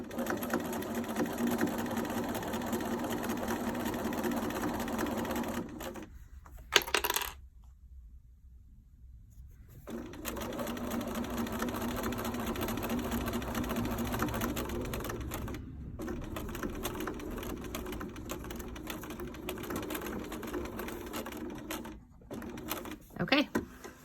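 Sewing machine stitching a pouch lining along a zipper, long runs of rapid mechanical chatter broken by a few pauses, one a longer stop, with brief quieter handling noises between runs.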